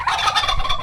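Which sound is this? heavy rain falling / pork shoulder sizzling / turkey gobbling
turkey gobbling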